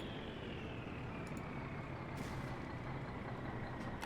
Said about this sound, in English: Fucking air brakes are charged.